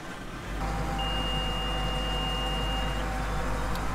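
A farm tractor engine turns over and settles into a steady low rumble, with a thin, high electronic alarm beep sounding continuously for a couple of seconds on top of the idle.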